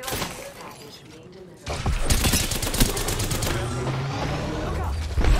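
Gunfire in a first-person video game shooter: after a quieter stretch, dense rapid bursts of weapon fire and crackling impacts break out and continue loudly to the end.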